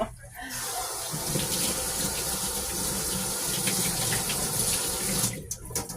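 A bathroom tap runs steadily into a sink during face washing, loud and close, with a steady gush that stops near the end.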